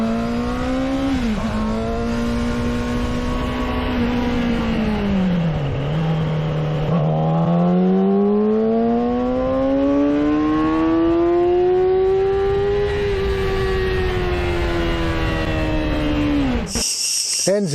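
A Yamaha YZF600 R6, a 599 cc liquid-cooled inline-four with double overhead camshafts, revs close by in a sustained engine note. The pitch rises and falls in smooth sweeps, climbs steadily toward the end, then cuts off abruptly, with no voices.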